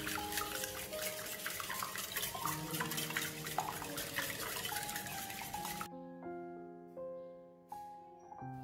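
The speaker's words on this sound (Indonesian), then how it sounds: "Lalu kita kocok lepas telurnya." Three eggs and half a teaspoon of salt are beaten in a large bowl, producing quick clinking and stirring taps over background music for about six seconds. The music then plays on alone.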